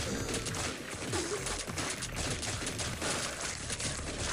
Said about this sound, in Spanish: Ya tenemos la escopeta.